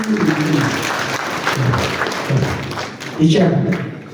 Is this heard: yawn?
no